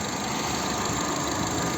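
A 2010 Opel Zafira facelift with a 1.8 MPI petrol engine idles close by, a steady even hum with a light mechanical ticking and no rattle, heard alone for a couple of seconds.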